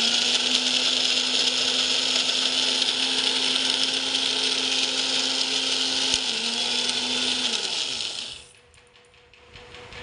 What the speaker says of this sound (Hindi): ये सबको उसी साथ एक साथ ग्राइंड कर लूँगी मिक्सी में।